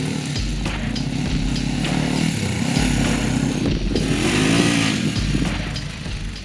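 An SWM Superdual T motorcycle runs steadily and fairly close while being ridden, its engine droning continuously with gentle rises and falls in pitch as the throttle shifts, and no talking.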